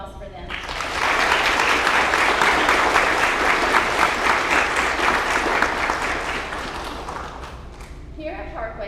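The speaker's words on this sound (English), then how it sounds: "how about a round of applause for them?" Loud, sustained applause from a school audience at a military flagship school ceremony, welcoming 4th and 5th grade military students; dense clapping swells quickly, holds steady, then tapers off.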